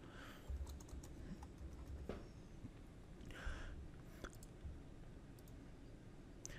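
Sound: typing text on a computer keyboard

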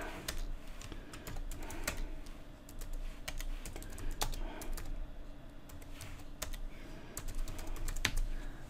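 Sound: typing words on a computer keyboard

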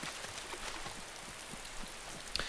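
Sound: rain in the video game Banditen Bande

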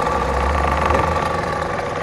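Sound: 3 hp motor of homemade three-piston pressure washer running

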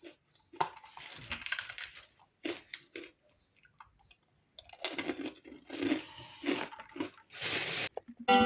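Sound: chewing a cookie

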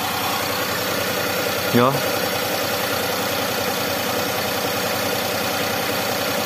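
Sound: Daihatsu Xenia 1.0 car engine idling at about 900 RPM

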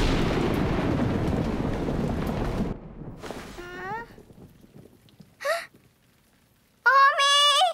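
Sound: thunder from a coming storm

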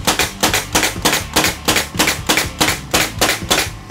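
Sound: pneumatic brad nailer firing nails, Rolair JC10 compressor

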